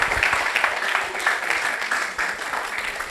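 Crowd at an Africa Samakag Institute ceremony clapping steadily, a dense and moderately loud applause that continues without a break.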